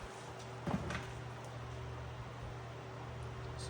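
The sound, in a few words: electric fan running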